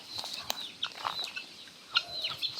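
Backyard chickens cluck in a series of short, faint, scattered calls with some light rustling, with no one speaking over them.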